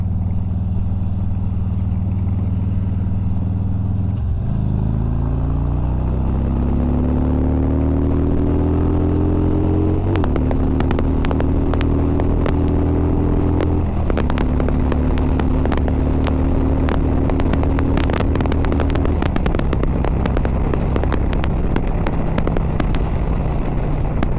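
A 2020 Harley-Davidson Road King with a Thunder Max auto tuner and modified stock exhaust idles with a deep loping rumble, then revs up and settles in several throttle blips, crackling and popping on the exhaust.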